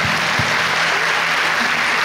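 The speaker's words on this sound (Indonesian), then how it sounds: "Boleh berikan tepuk tangan yang meriah." Crowd at a national camp opening ceremony giving lively, dense applause, a sustained wash of clapping heard close and fairly loud throughout the brief moment.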